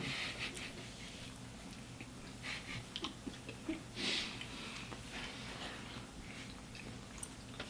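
Close, wet chewing of a spicy Popeyes biscuit, with soft irregular mouth clicks and bites over a low steady background hum.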